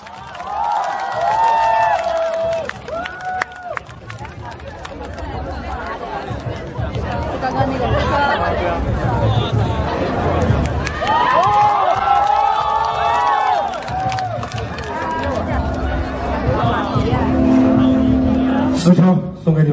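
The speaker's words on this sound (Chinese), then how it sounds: "现在可以给大家掌声" Festival crowd at an outdoor music stage, a dense wash of cheering, whoops and chatter with scattered shouts rising over it, loud and sustained throughout.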